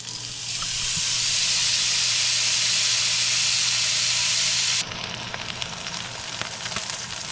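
Homemade burger patty frying in a hot pan, a steady loud sizzling hiss that holds for several seconds, then drops to quieter crackling and spitting.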